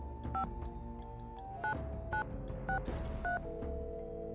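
Touch-tone keypad beeps dial a number on a phone in the Nancy Drew game Secret of the Scarlet Hand, five or six distinct tones in an uneven rhythm over a steady background hum of game music, with no talking.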